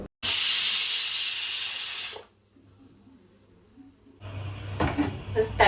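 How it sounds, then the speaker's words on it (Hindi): A tempering of spices hits hot oil for dal in a home kitchen, giving a loud sharp sizzle for about two seconds, a quiet pause, then a renewed crackling sizzle with kitchen clatter. "बस तड़का लगा देते हैं दाल में।"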